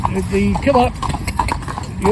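Wedding cob horses clip-clop along a town road during training, their hooves sounding steadily under continuous nearby talk.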